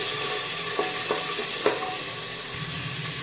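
Spice paste frying in a pan for dal makhani, a soft steady sizzle broken by three quick spatula scrapes, fairly quiet and close with no talking.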